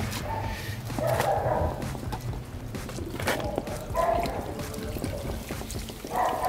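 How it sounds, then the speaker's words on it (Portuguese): Water poured by hand onto a dirty car wheel during wheel and brake disc cleaning, splashing in repeated bursts about a second apart, with a dog barking intermittently nearby. "Joga água aqui na parte suja."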